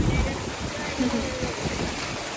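Lanka Ella waterfall in Sri Lanka roars as a steady, dense wash of broadband noise, close and unbroken for the whole moment, with a hint of wind buffeting the microphone.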